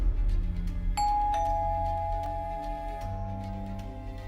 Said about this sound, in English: The door only opened a long while after multiple ringings of the bell.